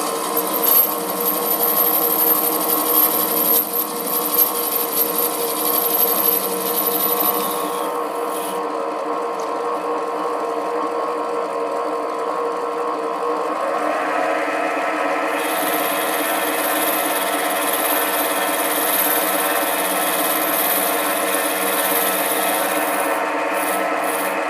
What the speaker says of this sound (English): then I'll make another cut using the compound hand wheel